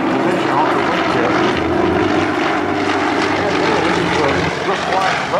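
Aerostars formation aerobatic propeller planes pass overhead at an air show, a loud, sustained engine roar filling the whole stretch, with a voice talking underneath.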